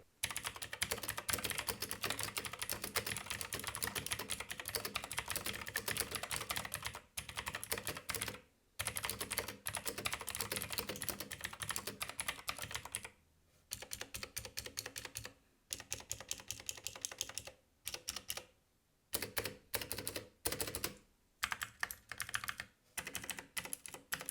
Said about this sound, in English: to give you a better idea of what this keyboard sounds like, here's a quick sound test